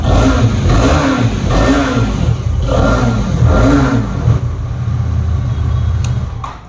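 A newly launched 2024 Hero motorcycle with only 371 km on it revs its engine in about four rising and falling bursts, a loud, close, throaty rumble with no talk over it.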